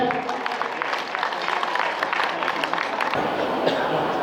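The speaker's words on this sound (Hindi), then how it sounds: "एक बार बच्चों के लिए जोरदार ताली हो जाए।" Audience applause for children at a Sahu community introduction gathering, a dense steady clatter of many clapping hands with crowd noise that carries on for several seconds and eases near the end.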